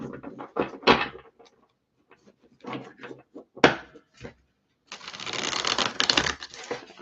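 Tarot cards riffle and slap in quick bursts of papery shuffling close up, broken by short pauses, ending in a longer dense rustle.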